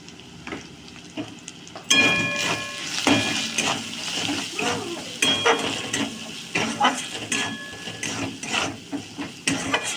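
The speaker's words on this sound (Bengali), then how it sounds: "মশলাটা ভালো করে কষিয়ে নেব।" Spice masala with Kashmiri chilli powder and salt fries in oil in a pan while it is stirred for a chicken bun filling. A close, steady sizzle runs under repeated scraping strokes of the spoon.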